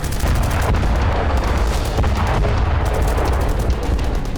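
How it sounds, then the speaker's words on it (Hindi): Mortar and artillery fire in the Ukraine war, heard as a dense, loud, continuous roar of booms and blasts with no clear gaps between them. "मोर्टार के साथ मौजूद रूसी सैनिकों ने यूक्रेनी फौज पर घात लगाकर हमला किया।"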